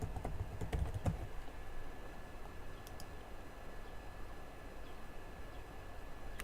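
Someone types on a computer keyboard, a quick cluster of keystrokes early on, then scattered lighter taps over a quiet background hiss; no one speaks.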